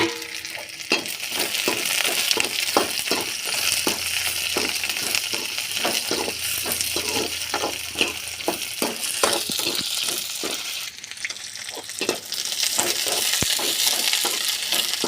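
Drumstick pods (moringa) stir-fried in hot oil for a simple South Indian poriyal, with a steady sizzle and repeated close spatula scrapes and stirs against the pan, no talking.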